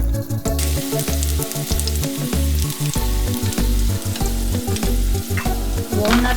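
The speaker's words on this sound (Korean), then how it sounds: "멸치 볶아줄게요." Anchovies stir-fried in oil with garlic in a pan, a nut-studded side dish in the making: a loud, steady sizzle and crackle with repeated scraping strokes of stirring throughout, no voices.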